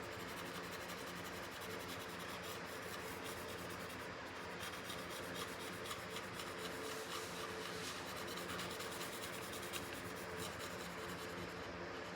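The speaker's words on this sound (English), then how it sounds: "And then basically you just colour that bit in." A technical illustration being coloured in by hand gives a faint, continuous rubbing scratch of pencil or pen strokes across paper, quiet and close, with no voices.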